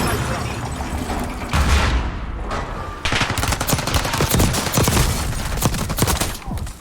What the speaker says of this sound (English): I think someone else was shooting at me.